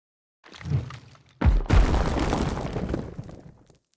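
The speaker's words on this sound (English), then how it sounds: "My version of this was to layer up various samples of rocks smashing and crumbling and combine it with kick drum samples to add weight." A layered sound-design impact of rocks smashing and crumbling, blended with kick drum samples for weight, made for Horizon Forbidden West: a heavy booming thud, then a second crash with a long, rumbling, crumbling debris tail that fades out.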